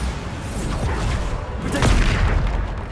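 A Bombarda explosion spell in a video game booms as a heavy, rumbling blast that swells toward the end, with a broad burst of noise and a faint voice underneath.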